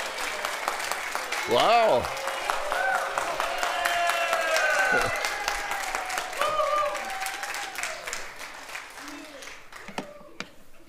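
Church audience clapping for Pastor Josh as he comes up, a scattered round of applause underneath people talking and a voice exclaiming in surprise.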